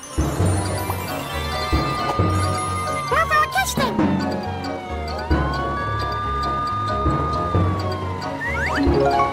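A police car siren wails in rising and falling sweeps over lively cartoon music and sound effects, with a voice chattering briefly in between.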